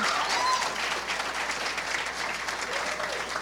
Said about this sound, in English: Please join me in a round of applause in honor of our mayor